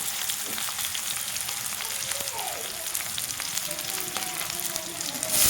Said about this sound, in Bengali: এখন দিয়ে দেবো আমি সবজিগুলো